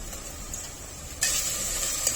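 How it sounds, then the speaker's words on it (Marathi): Chopped onion and tomato frying in oil for mutton kheema, a soft steady sizzle that turns brighter and more hissing partway through, close and quiet, with no voices. "कांदा आणि टॅमॅटो तेलामध्ये चांगलं शिजवून घेऊया"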